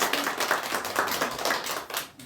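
A church congregation claps in welcome to newcomers, a brisk, fairly close burst of rhythmic hand claps filling the whole moment with no talk.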